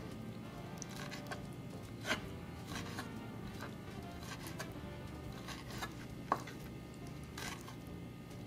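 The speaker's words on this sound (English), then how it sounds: "I'll slice half of them halfway, like this, and then we're gonna chop them" A knife chops ingredients for shrimp guacamole on a cutting board in quiet, uneven taps with a couple of sharper strikes, close and faint with no talking.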